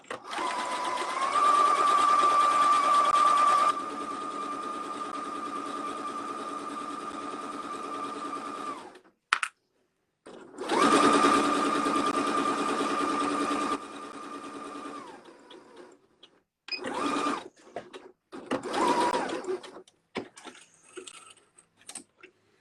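A sewing machine runs a straight seam along a fabric handle in long steady bursts of rapid whirring stitching, close up, separated by short pauses and a few quick runs near the end.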